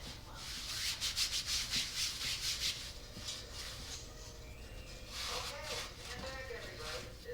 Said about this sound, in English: I'm just doing a light rub down on it just to make sure that the dust and everything like that doesn't get inside of the gears